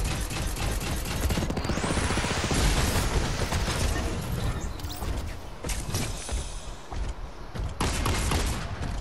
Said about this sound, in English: Now he's shooting at us.